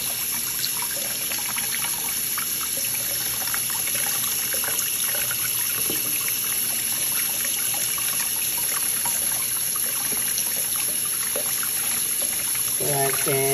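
Tap water runs steadily over salmon fillets being rinsed at a sink, a continuous close trickle and splash with faint voices in the background.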